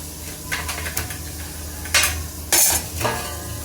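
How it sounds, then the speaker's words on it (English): A spoon stirs mutton curry in a cooking pot, with soft scraping and wet swishing over a steady low simmer and a few louder clanks of metal against the pot's side. "Nicely stir it and cover it with lid."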